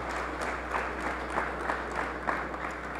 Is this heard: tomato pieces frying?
no